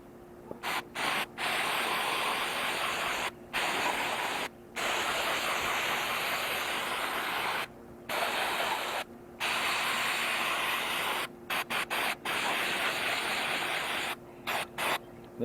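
MAF sensor cleaner sprayed onto the mass airflow sensor of a VW MK5 2.5, loud close hissing bursts of aerosol spray, several long sprays broken by short pauses and a quick stutter of brief spurts.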